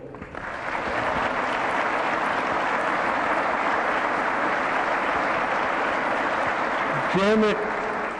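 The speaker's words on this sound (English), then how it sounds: "you can give him a big round of applause too" A large audience at a state of the State address applauds steadily, a dense, even wash of clapping that holds throughout, with a brief voice near the end.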